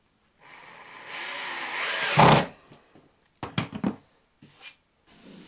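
A power drill drives a screw into plasterboard in one rising whir lasting about two seconds, followed by a few short clicks and taps from the tool and board.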